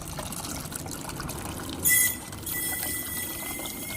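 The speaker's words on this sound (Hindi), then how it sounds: "और फिर ये वाला पानी भी हम इसी में ऐड कर देंगे।" Water poured into a cooking pot while making sambar, a steady close trickle with a brief louder splash partway through, no talking.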